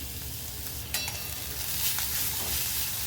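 Onions and grated carrot sautéing in a pan make a continuous sizzle, broken by a few clicks and scrapes of a stirring spoon, close by and with no talking.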